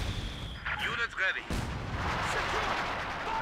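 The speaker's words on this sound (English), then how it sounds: "now the incendiary munitions from Firestorm" Incendiary munitions barrage from a Firestorm ability in Company of Heroes 2, heard as a run of booming artillery-like blasts and crackling fire rolling on continuously, with a burst of sharp impacts early and a steady roar after.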